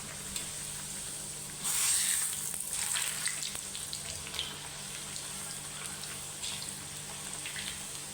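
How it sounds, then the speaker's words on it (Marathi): Sweet pumpkin gharya, small puris, frying in hot oil give a steady, close sizzle that swells briefly when a piece is added, then settles into even crackling. "अशा आपण आता सगळ्या पटपट पटपट तळून घेऊया"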